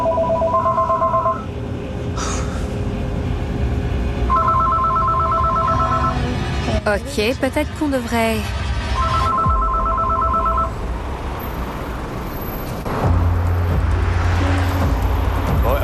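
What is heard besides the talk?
telephone ringing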